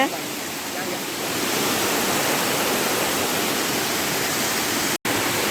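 Water pours heavily down a waterfall, a loud, unbroken roaring rush that swells slightly after the first second and holds steady, close by.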